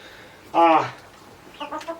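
Chickens cluck nearby, one loud squawk-like cluck followed by a few softer, shorter clucks.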